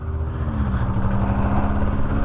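Vanderhall open-top car engine running close by, a loud low steady drone with a slight rising pitch, as if idling or pulling away.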